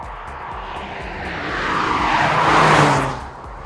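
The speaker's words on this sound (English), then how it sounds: "hearing the turbo blow off every time I switch gears just adds to that enjoyment" A 2023 Toyota GR Corolla's turbocharged engine builds in a swelling rush of noise during a gear change, ending in a loud whooshing release that fades quickly, heard from close by with no talking.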